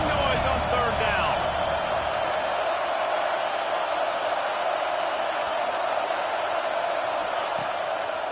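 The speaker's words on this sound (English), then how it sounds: "This dog crowd is off the leash, and they are coming after them, bringing noise on 3rd down." Football stadium crowd at an NCAA game roaring steadily on third down, a dense sustained wash of cheering and noise that holds loud and even throughout, with a brief burst of whoops near the start.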